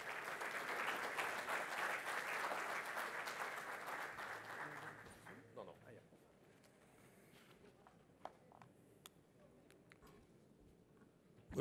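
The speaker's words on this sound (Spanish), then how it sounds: "Les pido recibir con un fuerte y cariñoso aplauso al señor Alfredo Barnechea." A forum audience gives a loud, dense round of applause that cuts off after about five seconds, leaving a quiet room with a few scattered claps, light knocks and shuffling.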